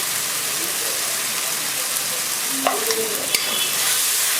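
Cumin paste and turmeric going into a hot pan for prawn malai curry, a soft steady sizzle with brief stirring scrapes and a couple of clinks near the end, no talk.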